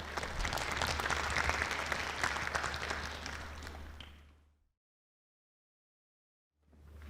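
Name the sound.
audience applause at briefing session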